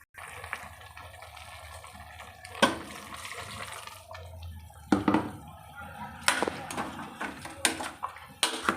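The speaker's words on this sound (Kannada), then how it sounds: "ಮಿಕ್ಸಿ ತೊಳೆದುಬಿಟ್ಟು ಆ ನೀರು ಮಾತ್ರ ಹಾಕ್ಕೊತೀನಿ ನಾನು." Rinse water from washing out a mixer jar is poured into a pot of mutton sambar, with soft intermittent splashing and trickling, several sharper sloshes and clinks punctuating the quieter pouring.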